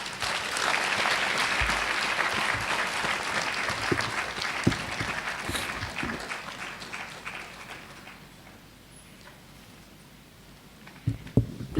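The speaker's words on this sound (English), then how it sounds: "Please, shall we applaud as he takes his seat?" Sustained audience applause fills a university hall as a reverend guest takes his seat, steady clapping that thins and fades toward the end, leaving a quiet stretch before a few faint knocks.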